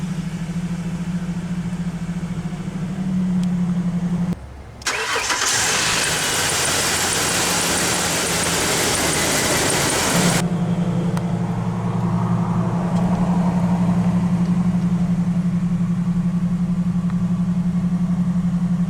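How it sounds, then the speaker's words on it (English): A 2006 Ford Ranger XLT SuperCab with the 4.0-liter V6 cranks and fires into a loud burst, then settles into a steady, low, even idle that carries on without talk. "let's go ahead and start the engine. This truck does have the 4-liter V6."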